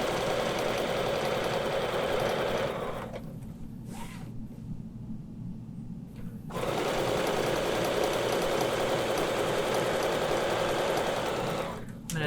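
A sewing machine runs close and steady while stitching a line for Westalee ruler-work quilting, with its humming motor dropping away briefly mid-run before resuming at full speed.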